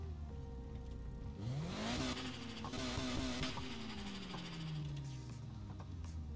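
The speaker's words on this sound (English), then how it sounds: "I can rev the engine." An engine revs in the Need for Speed Heat racing game, with a turbo whine. The pitch sweeps sharply up, holds steady at a high drone, then slides back down across several seconds, loud and close with no voices.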